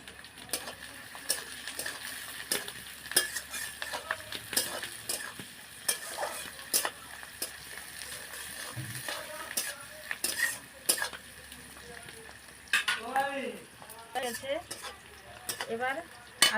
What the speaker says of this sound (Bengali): তেলের মধ্যে দেবো পেঁয়াজ, দিয়ে দেবো কয়েকটা কাঁচা লঙ্কা